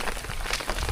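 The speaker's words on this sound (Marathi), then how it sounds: "एकदम थंडगार पाऊस असा मम्मी म्हणता" Steady rain pours down on rice fields in the Konkan countryside, a dense even hiss of drops striking the ground and puddles, close and continuous with no talk.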